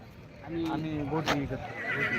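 A short horse whinny close by at the Yeola horse market, mixed in with people talking nearby.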